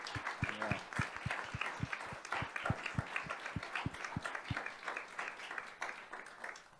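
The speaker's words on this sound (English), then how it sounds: "Give another round of applause to the panelists" An audience at a Founders Day founder panel applauds the panelists, with dense, steady clapping for several seconds, punctuated by low thumps, before it thins out toward the end.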